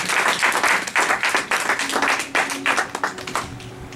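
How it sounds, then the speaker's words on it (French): A church congregation applauds and claps steadily throughout, a dense, continuous wash of many hands in a reverberant hall, with faint voices mixed in. "Est-ce qu'on peut acclamer pour la gloire de Dieu?"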